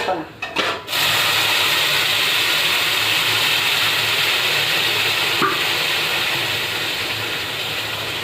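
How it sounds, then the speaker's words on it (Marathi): Cooked mutton tipped into hot spiced tempering for a spicy Marathi mutton rassa, setting off a loud, steady sizzle that continues unbroken after a brief clatter at the start. "आता याच्यामध्ये आपण हे शिजलेलं मटण घालणार आहोत"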